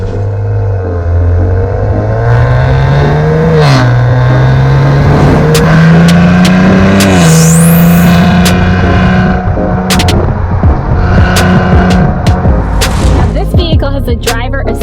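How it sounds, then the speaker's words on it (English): A 2019 Maserati Levante S GranLusso SUV driving on the road, its engine droning loud and close and rising in pitch as it accelerates through the gears, with steady road noise throughout. "Let's go get this Maserati on the road."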